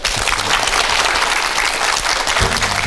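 Television lecture audience applauding to welcome the speaker: dense, loud clapping from a studio crowd, continuous throughout with no talk.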